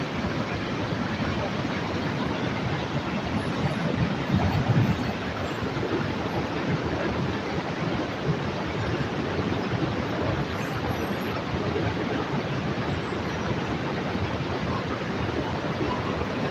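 Steady, dense roar of water pouring over Niagara's Horseshoe Falls, a constant broadband rush with no letup, heard from close beside the falls on a November day.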